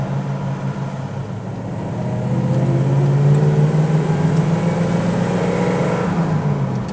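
A 1954 Mercury Monterey engine rumbles with a deep, throaty exhaust note through glasspack mufflers, swelling slightly louder midway as it idles and revs steadily nearby, with no talking.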